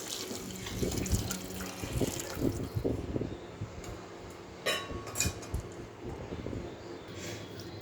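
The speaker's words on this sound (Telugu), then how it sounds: "వేడి నీళ్ళు వేసేసుకుందాము." Hot water pours and splashes into a pot of tomato rice, a steady liquid rush with a few clinks and gurgles, fairly close.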